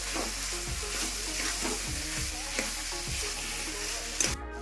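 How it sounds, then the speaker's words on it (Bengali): Spices sautéing in a pan for aloo dum potato curry, a constant close sizzle with rhythmic scraping stirs of a spoon against the pan, no voices. "এখন আমি এগুলো দিয়ে দিচ্ছি এর মধ্যে ভালো করে কষায় তারপর জল দেবো"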